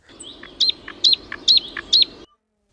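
A small bird chirps four times in an even, repeating series, close and clear over a quiet background, before falling silent.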